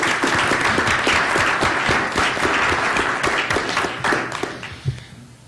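Audience applause fills a hearing room after a public-service tribute, steady dense clapping close and loud throughout, thinning slightly near the end.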